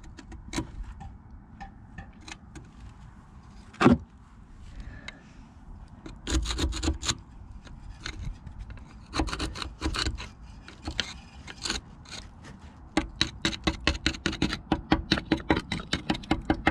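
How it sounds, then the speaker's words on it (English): Rust being scraped off a hub next to a hard plastic part: quiet, irregular rasping and rubbing strokes with occasional knocks, growing into quicker, rhythmic scraping toward the end. "let's just see if we can clean off the rust around it"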